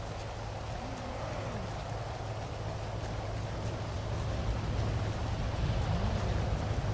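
Steady rain falls in the Ranch Simulator video game, a soft, continuous hiss of drops that swells slightly toward the end.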